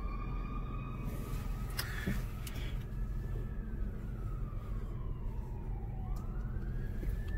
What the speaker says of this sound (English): There goes the fire engine.